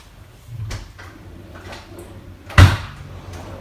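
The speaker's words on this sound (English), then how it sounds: "I don't know why I decided to go in the wrong drawer" A wooden kitchen drawer slides open and shuts, giving a soft thud near the start and a sharper, louder knock about two seconds later, close by in a quiet room.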